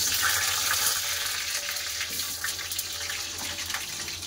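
Potatoes dropped into hot mustard oil in a kadai hiss with a bright, continuous sizzle that is loudest at the start and eases slightly over a few seconds, close up and without speech.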